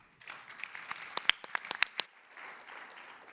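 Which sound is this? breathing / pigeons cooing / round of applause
round of applause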